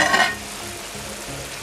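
Fish in a beaten curd gravy cooks covered in a pan, giving a soft, steady sizzle and simmer with a brief louder spatter at the start, faint and close.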